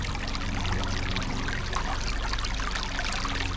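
Water pours and streams steadily through a sluice box used for gold prospecting, making a continuous close rushing trickle with no pauses and no voices over it.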